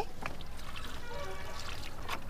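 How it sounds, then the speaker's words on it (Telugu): Water is poured onto garden plants, a soft trickling splash that runs steadily through the whole short stretch, quiet and close. "వాటర్ ఇచ్చేస్తున్నానండి."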